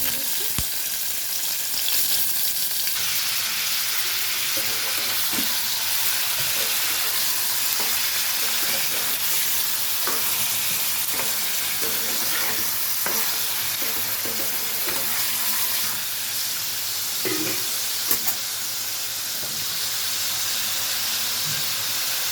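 Paneer cubes frying in hot white oil in a kadai with whole garam masala spices, a steady loud sizzle and hiss with occasional stirring scrapes and small pops throughout.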